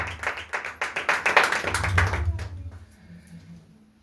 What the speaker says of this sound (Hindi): जोरदार तालियां उसकी बुजुर्गी और अजमत के लिए